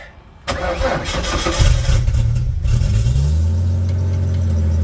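A Mitsubishi Eclipse time attack car cranks briefly and fires up, its engine catching with a loud rumble and settling into a steady, slightly rough idle, close and with no voices.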